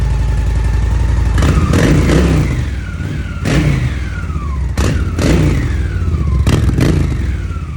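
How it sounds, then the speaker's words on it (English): A Honda Shadow motorcycle engine idles loudly and is revved several times, each throttle blip rising and falling in pitch over the steady rumble, close by with no talking. "But I'll rev it up."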